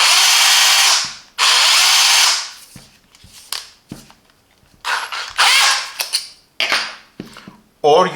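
A Parkside PABH 20-Li C3 cordless hammer drill whines loudly while drilling metal in several bursts, running for a second or two, stopping, then starting again in shorter pulses.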